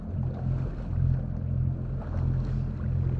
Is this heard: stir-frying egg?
no